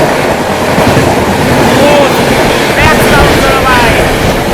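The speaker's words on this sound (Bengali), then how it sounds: "এক্সপ্রেস ট্রেন ওভারটেক করছে।" An express train overtakes at high speed, heard from aboard the Bagh Express as a loud continuous roar of wheels and rushing air with brief squeals riding over the steady din.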